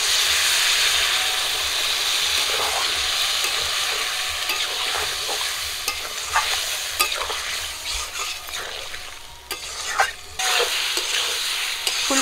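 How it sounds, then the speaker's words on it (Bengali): Cauliflower and potato frying in a pan with a little water added, a continuous close sizzle with repeated scraping and clinking of stirring throughout. "কষে নেওয়ার জন্য অল্প করে একটু জল দেবো।"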